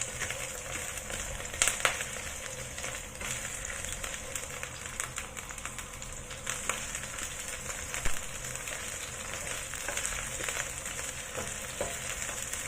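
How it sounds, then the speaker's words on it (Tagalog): Scallion, garlic and ginger frying in a pan for pork meatball cabbage soup, a continuous crackling sizzle with occasional stirring clicks, close and fairly quiet. "Ayan, i-fry lang muna natin yan bago tayo maglagay ng"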